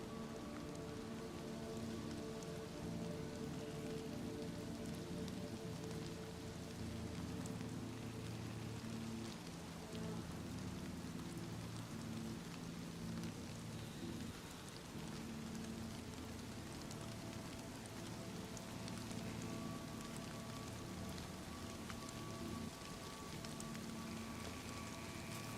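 Rain in DayZ patters steadily on surfaces, a dense, even hiss that holds quietly for the whole stretch with no voices.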